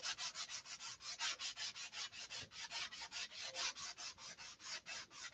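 Rhythmic back-and-forth sanding strokes smoothing a Sig Magnum aircraft fuselage part, around twenty steady rasping passes at close range with no talking.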